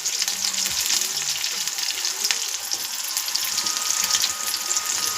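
Curry leaves and their stems, added with onion for a village-style lentil curry, sizzle loudly and steadily in hot oil, with a constant crackling hiss throughout and no voices.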